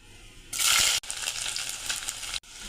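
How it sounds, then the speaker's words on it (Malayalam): Chopped ginger and garlic hit hot oil for rambutan pickle with a loud, bright hiss, then settle into a steady crackling sizzle that briefly cuts out twice. "ഇനി നമുക്കിതിലേക്ക് അരിഞ്ഞു വെച്ചിരിക്കുന്ന ഇഞ്ചിയും വെളുത്തുള്ളി ഇട്ട് കൊടുക്കാവേ"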